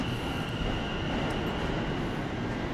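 Trains run at Liverpool Street station in London, giving a continuous dense rumble of wheels and carriages with a thin high whine above it. It is steady and fairly loud throughout, with no talking.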